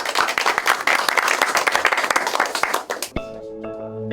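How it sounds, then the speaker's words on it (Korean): Brisk applause from a small group of participants opening an on-site roundtable on the handmade shoe industry, lively clapping for about three seconds that stops abruptly, followed by a short instrumental music tone. "현장 간담회를 박수로 시작하겠습니다."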